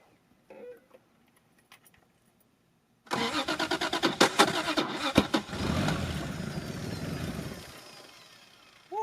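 A Mk3 Toyota Supra's 7M-GTE turbo engine cranks and catches after a few faint clicks, revving loudly for several seconds before settling and fading toward an idle.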